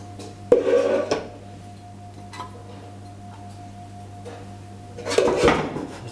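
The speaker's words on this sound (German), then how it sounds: "Für die Walnussdrillinge stellen wir uns eine Pfanne auf." A pan set down on a stovetop with clattering metal clunks near the start and again at the end, over a steady low hum of the kitchen, in a German cooking setup for walnut-coated potatoes.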